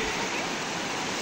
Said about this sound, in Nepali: यो खोला बगेर कालीमाटी को ठाउँमा मिसिन्छ